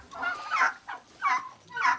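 Turkeys on an integrated farm gobble and call in a few short, nasal bursts, fairly close, with quiet pauses between the calls.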